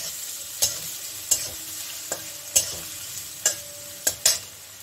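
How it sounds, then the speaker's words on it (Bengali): Chopped onions fry with whole spices in hot oil, a steady sizzle broken by about seven sharp scraping stirs of a spatula at a loose, regular pace, close and alone. "ফোড়নটা থেকে মিষ্টি গন্ধ বেরিয়েছে, এখন আমি পেঁয়াজটা দিয়ে দিচ্ছি"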